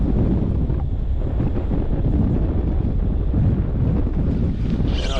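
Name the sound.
strong wind on a boat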